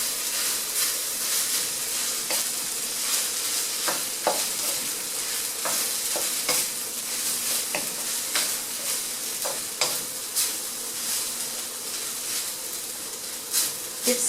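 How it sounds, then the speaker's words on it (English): Fried rice sizzles in a pan while being stirred, a continuous bright hiss punctuated by irregular scraping and tapping strokes of the utensil, close up and fairly steady throughout. "Keep stirring until it's all mixed up."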